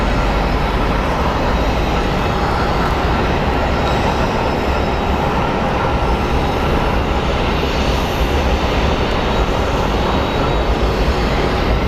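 A jet airliner at Phoenix Sky Harbor airport roars loudly and steadily throughout, a dense broadband rumble with no pauses and no voices.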